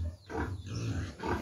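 Pigs and piglets grunting and oinking on a farm, a few low snuffling grunts close by in a quiet pen, with no voices.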